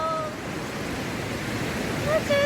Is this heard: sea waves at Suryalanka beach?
yes